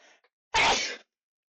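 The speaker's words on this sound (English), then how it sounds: "Sneeze." A single sharp, close sneeze bursts out after a faint breath, then silence.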